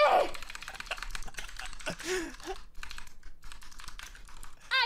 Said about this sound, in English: The furious typing,